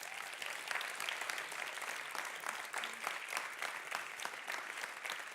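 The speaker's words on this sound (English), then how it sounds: "Please give them a round of applause." A conference audience at Konsoll 2019 claps in sustained, even applause lasting the whole stretch, a dense crowd of hands heard from within the hall without any talk.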